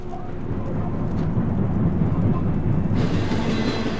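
A train passes in Uncharted 4, a loud, continuous low rumble that swells and holds steady for the whole stretch, with a brighter rush entering near the end.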